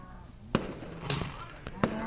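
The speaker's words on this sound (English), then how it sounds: "I'll have 3D fireworks, I'm sure. I'll have them coming from all around me now." Fireworks for the 4th of July crackle and bang in several sharp, separate bursts, fairly close and loud, mixed with background chatter.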